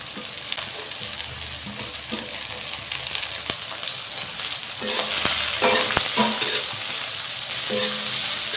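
Carrots and beans fry in a pan with a soft continuous sizzle and intermittent stirring scrapes. The sizzle grows louder midway, heard close with no speech.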